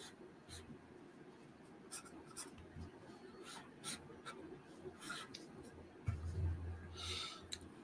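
Pencil scratching and rubbing on paper during figure drawing, with a soft steady rasp broken by brisk strokes and a heavier erasing scrub near the end, close and quiet.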